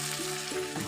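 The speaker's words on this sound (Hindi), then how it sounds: "वो इस तरह से तड़का लगाती थी साग को" Tadka tempering sizzles hot in a pan over mustard greens saag, a steady close frying hiss with bubbling crackle, unbroken throughout.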